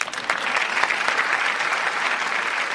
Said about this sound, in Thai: ปรบมือให้กำลังใจ